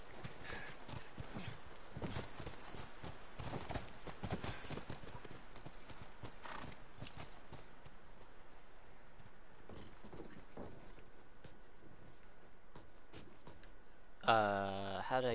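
Hooves clip-clop in a steady, brisk rhythm on a hard surface in the video game The Last of Us, then a horse gives a short whinny at the very end.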